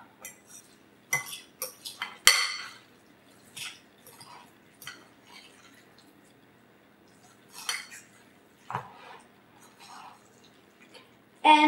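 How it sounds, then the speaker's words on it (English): A fork mixes tuna salad with onion in a bowl, giving sparse, faint clinks and scrapes against the bowl in scattered bursts with quiet gaps between. "Now, you want to take your fork and blend it all up."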